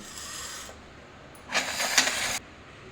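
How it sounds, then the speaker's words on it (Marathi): Kernels are stripped off two corn cobs by hand in a home kitchen, giving a short dry scraping burst followed by a louder, longer rasping scrape, with quiet gaps around them. "आता आपल्याला हे दाणे काढून घ्यायचे आहे"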